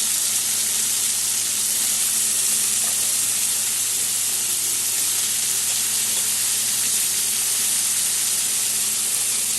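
Potato and pointed gourd (parwal) sizzle steadily in hot oil in a pan, a dense continuous frying hiss without talk throughout.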